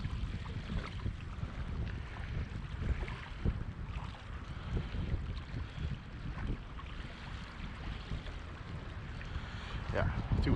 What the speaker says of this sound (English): Yeah, too windy.